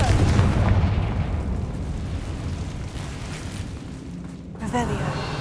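Blasting spells boom and rumble in a Hogwarts Legacy battle, with heavy explosive bursts and crackling debris, loud and dense, under in-game voices.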